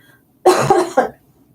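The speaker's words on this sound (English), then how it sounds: "I feel like I'm going to cough." A single close, harsh cough in two quick bursts, loud against a quiet background.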